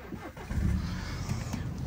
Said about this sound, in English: Let's start her up, have a look at the engine.